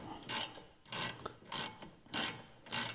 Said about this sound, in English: So the 18mm deep socket is the easiest way to get these off.